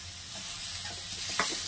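Onions, curry leaves and tomatoes frying in a pan, a soft steady sizzle with light stirring scrapes and a brief clink near the end, quiet and close, no talking.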